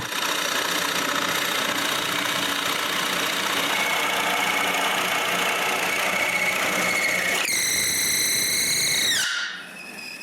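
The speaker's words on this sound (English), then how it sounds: "On the other side, I drill a smaller hole." A drill press runs and bores a smaller hole in a wooden ring for a wooden cryptex, a loud steady mechanical hum with a rising whine as it cuts, then winding down at the end, with no talk.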